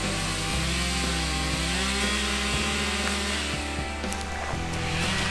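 A chainsaw cutting trees while a plot is thinned, its engine droning loud and close without a break, with small pitch dips as the chain bites into wood.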